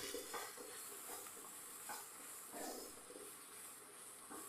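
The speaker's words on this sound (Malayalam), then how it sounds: "എല്ലാം കൂടെ നമുക്ക് നെയ്യിലൊന്ന് വഴറ്റിയെടുക്കാം" Grated coconut sautéing in ghee in a pan gives a steady soft sizzle with repeated stirring scrapes, faint and close, no talking.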